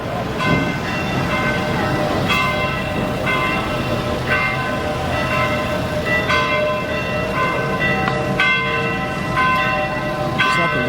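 Church bells ring outdoors in Naples, Italy, loud rhythmic peals striking roughly every second over a busy background of street and crowd noise.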